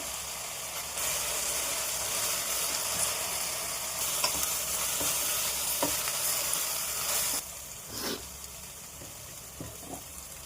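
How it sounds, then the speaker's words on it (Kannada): Onions fry with a little salt in a pan for tamarind rice, giving a close, continuous sizzle with occasional stirring clinks and scrapes, quieting somewhat near the end. "ಈಗ ಚೆನ್ನಾಗಿ ಈರುಳ್ಳಿ ಫ್ರೈ ಮಾಡ್ಕೊಳ್ಳೋಣ"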